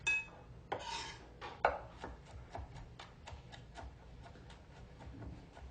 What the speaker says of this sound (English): Do you guys have any questions while I'm mincing my garlic?